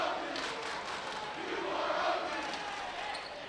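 Home crowd at a boys' high school playoff basketball game between LT and Richards, a steady loud roar of voices jeering and cheering at a free-throw shooter, sustained throughout.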